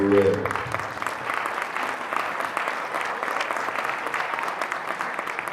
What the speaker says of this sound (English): You can give me a hand clap